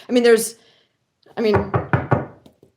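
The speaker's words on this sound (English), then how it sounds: "Knock on everything." Knuckles rapping on a hard surface for luck: a quick burst of four sharp knocks following a short spoken phrase, close and clear.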